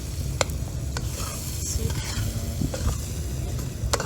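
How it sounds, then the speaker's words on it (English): Food sizzling and frying in a pan over an open fire, a steady crackling hiss with a few sharp pops and stirring scrapes; a voice briefly speaks. "You can hear the sizzle."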